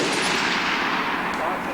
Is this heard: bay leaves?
no